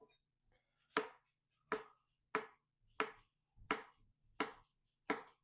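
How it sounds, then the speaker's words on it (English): Knife halving pickles on a cutting board, seven crisp evenly spaced chopping knocks, close and clear against a quiet background. "Just going to half some pickles."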